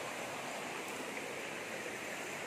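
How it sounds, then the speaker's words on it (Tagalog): Waterfall on a farm lot, heard as a steady, even broadband rush of falling water that stays constant throughout with no voices. "Falls na po."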